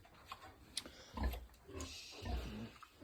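A sow kept in a farrowing crate grunts aggressively in two or three low, rough bursts, close by, with faint clicks and rustling in between.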